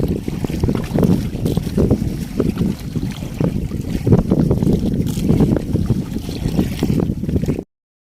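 Strong wind at sea during rough weather on a fishing boat buffets the microphone in loud, gusty roars, with the rush of open water beneath and no voices.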